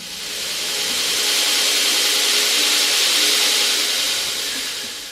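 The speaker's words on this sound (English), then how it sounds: "I might grind this down a little bit just to get it a little closer before I get it all glued together" A power grinder bites steadily into a forged knife handle, a continuous loud hissing rasp that rises and holds for several seconds before easing off, with no speech.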